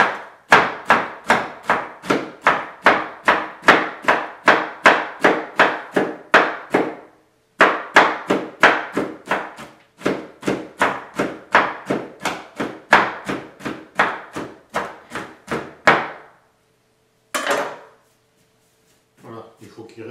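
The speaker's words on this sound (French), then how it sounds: "alors on commence par hacher grossièrement" A knife chops coarsely through almonds and hazelnuts on a board, a fast, regular series of sharp close taps in two long runs with a short break, ending in a few scattered strokes.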